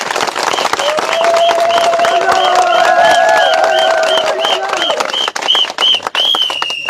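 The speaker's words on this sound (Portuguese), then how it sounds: "Vou pedir uma forte salva de palmas para o Raul Novinto" Loud crowd applause and cheering at a RENAMO candidacy announcement rally in Mozambique, sustained clapping for several seconds with whistles and shouts, fading near the end.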